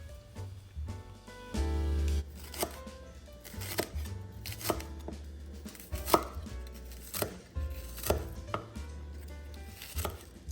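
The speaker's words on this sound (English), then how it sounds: "Next, I'm going to cut up my shallot." A knife chops shallots on a cutting board for a Thai red curry, giving a run of close, crisp, irregular taps, with one dense burst of rapid cuts near the start.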